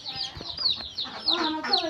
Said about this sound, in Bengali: আগে মুরগি কিনে দেখে নই।